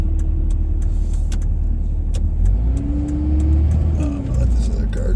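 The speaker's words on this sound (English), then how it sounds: "Let this other car go." Car driving past on a snowy mountain highway, Highway 38 near Forest Falls, a steady engine and tire rumble that swells as it passes close by, with a continuous cabin drone underneath.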